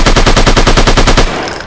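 Rapid automatic gunfire in the shooter game The Last One, a loud, tight burst of about a dozen evenly spaced shots that cuts off abruptly and leaves a brief quieter tail.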